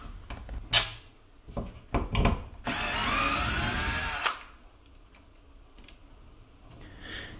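A power drill backs out the two mounting screws of a Nest Gen 3 thermostat on a wall: a close whirring run of about a second and a half, surrounded by clicks and handling taps, with no speech.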